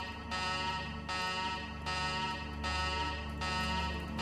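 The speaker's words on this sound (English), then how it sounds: "You punch the button, and alarm klaxons blare." Alarm klaxons blare in the video game Shadowrun: Dragonfall, a harsh buzzing tone repeating in five even pulses about every three-quarters of a second, fairly quiet and alone.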